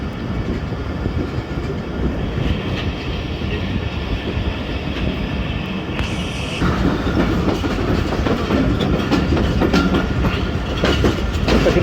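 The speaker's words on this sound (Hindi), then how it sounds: "झेलम पहुंच रही है ट्रेन" Passenger train 48 Dn rolls into Jhelum station, with a steady loud rumble and clickety-clack of wheels over rail joints, heard from on board as the sound grows slightly heavier partway through.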